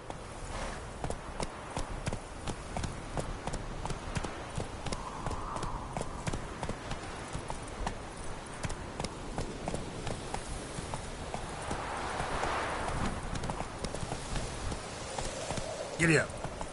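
Horse galloping in The Witcher 3 on PS5, a rapid continuous clip-clop of hooves with rushing wind, while someone talks over it throughout.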